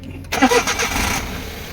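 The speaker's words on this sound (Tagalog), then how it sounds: "paandarin rin natin ang makina. Right? Engine start." A Suzuki DA64W turbo engine cranks and catches, then settles into a steady idle rumble, close and loud, with brief talk over the start.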